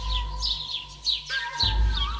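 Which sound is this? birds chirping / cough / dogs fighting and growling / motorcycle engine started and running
birds chirping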